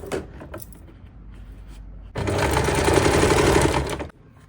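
Sewing machine stitching a half-inch folded fabric hem on a bell bottom, a fast whirring run of dense needle clatter lasting about two seconds after quieter handling noises, then stopping abruptly.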